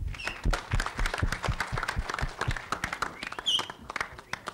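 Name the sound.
audience applause for Ajay Devgan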